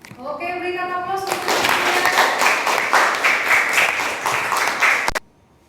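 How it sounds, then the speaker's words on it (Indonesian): A classroom of students applauds together, a dense burst of clapping that starts after a short moment of sustained tones and then stops abruptly. "berikan aplaus"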